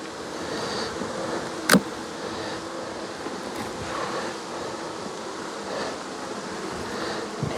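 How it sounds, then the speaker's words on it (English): Honey bees buzz around a syrup-filled hive frame during a late-season colony check, a soft continuous hum close by, broken by a sharp click near the start. "There's some bees."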